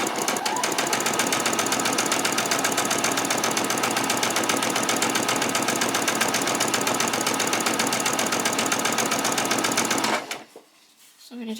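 A sewing machine running long gathering stitches on fabric for a child's peasant skirt: fast, steady mechanical rattling held continuously for about ten seconds, then stopping abruptly into near quiet.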